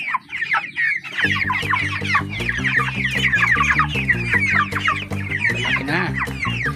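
Broiler chickens on a poultry farm cluck and chatter continuously in a dense, close flock, with a brief spoken phrase over them near the start.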